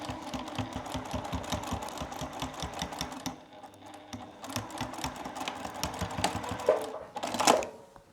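A sewing machine backstitches fabric for a boxy makeup bag with a rapid, steady rattle of needle strokes that pauses briefly midway, then resumes and ends with a sharper clatter near the close.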